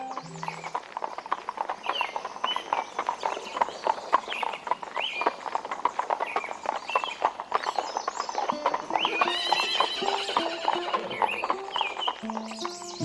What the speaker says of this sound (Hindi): सुभाष का तांगा मणि भवन के निकट रुका